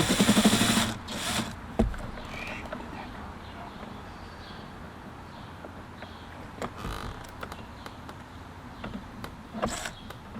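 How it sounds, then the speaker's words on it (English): Power tool driver backing screws out on a deck, short whirring bursts near the start and again around the middle and end, separated by quieter handling noise and clicks. "let's get these screws out"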